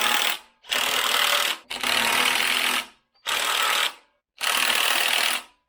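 An impact driver rattles go-kart engine case bolts tight in four loud, hammering bursts of about a second each, separated by short pauses.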